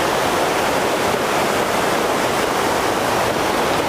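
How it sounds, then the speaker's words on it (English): Stevens Creek waterfall roars as a steady, dense wash of falling water, loud and close with no pauses, filling the whole stretch without any voices. "try to shoot this waterfall"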